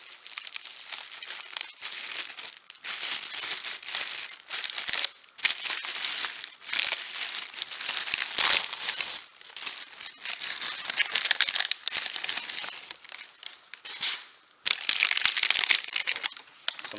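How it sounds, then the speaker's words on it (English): Wax paper wrapping around a boxed 1:18 scale OttOmobile Honda CR-X Mk.2 model car crinkles and rustles steadily as it is peeled away, a close, continuous crackling with brief pauses and no talk. "Some type of wax paper protecting it."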